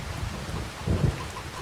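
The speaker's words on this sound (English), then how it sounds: "I wonder how long this storm's going to be around." A thunderstorm with rain in Farming Simulator 25, a dense wash of rainfall with a low rumble of thunder swelling briefly in the middle.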